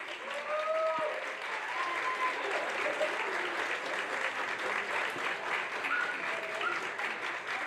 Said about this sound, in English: Now applaud all those in the audience who helped you through this.